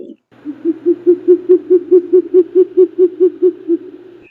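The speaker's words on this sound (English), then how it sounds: "Short-eared owl." A short-eared owl calls in a rapid, regular run of roughly fifteen low hoots, loud and close, preceded by one brief isolated note and a short gap.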